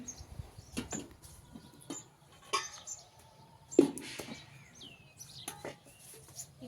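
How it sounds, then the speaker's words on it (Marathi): Sparrows and other small birds chirp faintly on a quiet morning, with scattered short tweets and occasional clinks in the background. "सगळे चिमण्या पाखरांची चिवचिव चिवचिव ही खरंच मनोरंजन आणि खूप प्रसन्न होतं"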